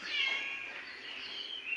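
Cat giving a single drawn-out meow, fairly close and clear, with a rising then wavering tone and no talk over it.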